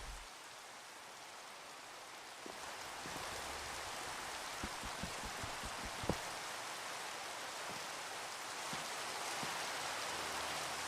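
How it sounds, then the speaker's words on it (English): Loud waterfalls in a video game roar as a steady, dense wash of rushing water that fills the whole clip, with a few faint clicks scattered over it and no talking. "the waterfalls are loud"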